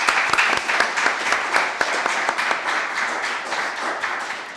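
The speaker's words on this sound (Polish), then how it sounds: "Wielkie brawa dla Państwa." Loud, dense applause at a Primus Inter Pares 2014 school awards ceremony for honoured students and their parents, many hands clapping continuously up close with no speech over it.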